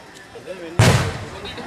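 A firecracker explodes at a temple festival, one sharp loud bang partway through, with a brief rumbling tail, preceded and followed by faint background voices.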